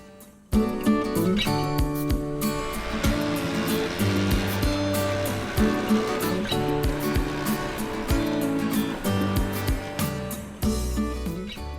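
A classic Vespa scooter on a short test run after a starting-problem repair, its small two-stroke engine buzzing steadily and close by, with intermittent sharp knocks and clicks over the drone.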